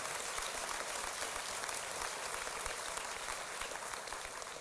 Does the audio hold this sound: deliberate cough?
no